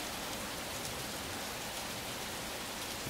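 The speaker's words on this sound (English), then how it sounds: "They said it was gonna rain, but oh, they didn't say how bad it was gonna be." Heavy rain pours down in a dense, unbroken hiss, loud and steady throughout with no voices.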